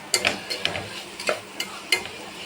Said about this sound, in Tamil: இப்போ கரம் மசாலா, கொஞ்சம் மல்லித்தூள் அப்புறம் நல்லாயிருக்கும் போட்டு வதக்கி விட்டுட்டு,